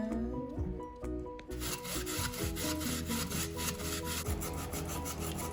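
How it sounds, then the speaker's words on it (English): Raw potatoes are grated finely by hand for cepelinai, giving a steady, rhythmic scraping and rasping against the grater, close and fairly quiet, with strokes growing denser after a brief lighter start. "I've got the other half of our potatoes, and we're gonna finely grate them"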